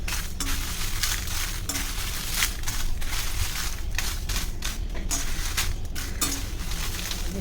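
Dry kandi chillies roasting in hot oil in a kadhai over medium-high gas, giving a steady dense crackle with repeated metal scrapes and clinks of a spatula against the pan, no voices.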